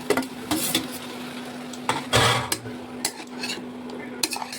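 Onions for chicken gravy stirred in a pan, a spoon scraping and clinking irregularly against the metal over a low steady hum, with a louder scrape in the middle.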